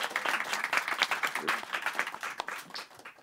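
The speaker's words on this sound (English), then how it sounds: "Please give these wonderful designers a big round of applause" Audience applause for designers at a distributed design event, a steady wash of clapping with sharp individual claps standing out, moderately near and fairly loud throughout, with faint voices mixed in.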